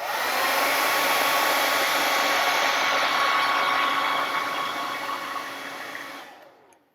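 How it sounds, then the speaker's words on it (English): A hair dryer blows with a loud, steady roaring whoosh for several seconds, then winds down and cuts off. "Let's see that with the hair dryer, see what it looks like."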